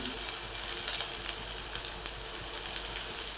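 Capsicum sautéing in a pan with onion, ginger and garlic gives a steady, close sizzle with faint scraping, holding an even level throughout without talk.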